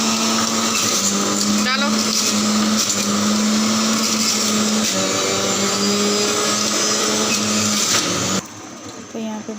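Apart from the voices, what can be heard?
juicer blending apple and sweet lime juice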